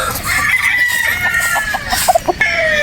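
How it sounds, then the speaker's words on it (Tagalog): A Boston Roundhead broodstag rooster crows close by, one drawn-out call followed by a few short clucks, over light background noise. "Isang Boston Rounded Brood Stag din."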